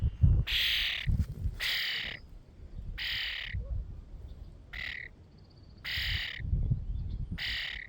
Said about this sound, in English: You're the friendliest bird I've ever seen in my life.